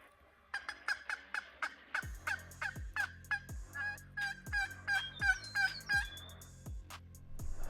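Wild turkey gobbling in the Nebraska countryside during spring bowhunting season, a run of repeated gobbles with sharp rattling notes, fairly close and loud, with another bird answering in overlapping calls.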